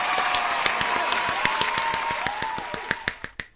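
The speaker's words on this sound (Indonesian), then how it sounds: "Sekarang tepuk tangannya buat lingkaran yang besar." Toddlers at a children's church service clapping hands in a steady rhythmic beat, evenly spaced claps over sustained group singing, ending with a few louder isolated claps.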